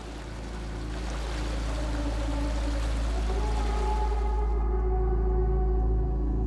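A river rushes over stones in a Moroccan canyon, a continuous, close, broadband roar of flowing water with a deep low rumble underneath, steady throughout and growing slightly louder.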